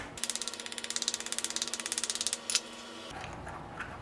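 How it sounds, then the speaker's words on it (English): A brass plate taps quickly and repeatedly against a freshly cast silver coin, giving a fast, even series of about thirty light metallic clicks close up, then stopping. "First I'm going to take this brass plate. I'm going to tap the coin with it."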